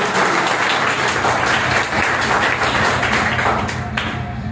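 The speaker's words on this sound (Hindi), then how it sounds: "इनके साथ के लिए जोरदार तालियां होनी चाहिए।" A crowd claps loudly and steadily at a World No Tobacco Day event in India, dense applause filling the room for several seconds before easing off slightly at the end.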